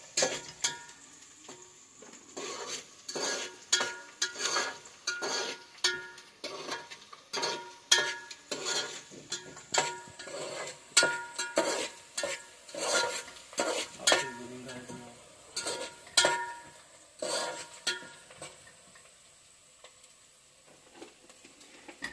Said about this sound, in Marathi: लालसर कांदा होईपर्यंत त्याला भाजून घ्यायचा आहे